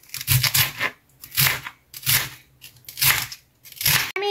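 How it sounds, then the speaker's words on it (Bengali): A knife cuts lettuce leaves into fine shreds in a series of crisp, crunchy cutting bursts, about six evenly spaced strokes, close and moderately loud, with no talking. "আমি প্রথমত লেটুস পাতাগুলো কুচি কুচি করে কেটে নেব।"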